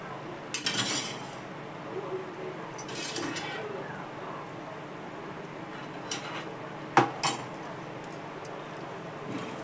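A spatula stirring Mysore pak mixture cooked in oil or ghee in a pan: soft scraping with a few sharp metallic clinks and knocks scattered through, close by, over a quiet background.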